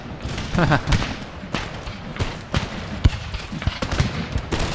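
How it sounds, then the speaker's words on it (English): Small arms volleys crackle across an Empire: Total War river skirmish, with irregular pops and thuds of musket fire spread out at mid distance, and a voice talking over part of it. "That's under small arms fire."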